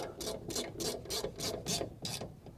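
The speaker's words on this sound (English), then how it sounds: "I'm gonna tighten this clamp up" A ratchet tightening a clamp on a 1969 VW Beetle, with seven even, rhythmic clicking strokes close up in a quiet workshop and no talk.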